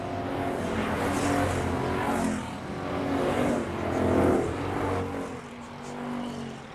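Street stock race cars roar around Mesa Marin Raceway in July 1998, a loud, continuous engine drone that swells and fades as the cars accelerate and pass.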